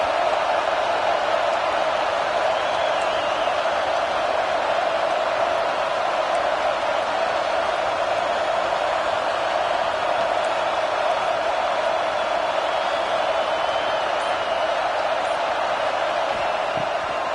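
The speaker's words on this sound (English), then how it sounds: "Decibels rising as the crowd gets behind this defense on 3rd down." A college football stadium crowd roars steadily on a defensive third down, a loud, sustained wall of massed voices that holds without letup.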